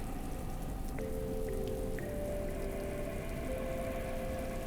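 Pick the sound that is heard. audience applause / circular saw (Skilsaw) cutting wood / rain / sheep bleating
rain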